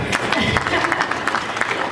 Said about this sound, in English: I think we deserve a clap, don't you think?